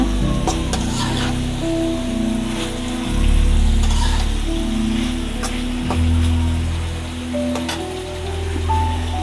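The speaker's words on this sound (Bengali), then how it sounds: "এই যে কষাইতেছি তরকারি" Vegetable curry with small shrimp sizzles and fries steadily in a pan while being stirred, a continuous loud crackle with scraping strokes throughout.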